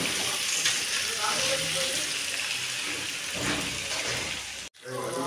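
Washed, pre-fried mung dal goes into a pan with a rohu fish head and sets off a steady, loud sizzle with watery hissing that runs for several seconds, then drops off sharply near the end.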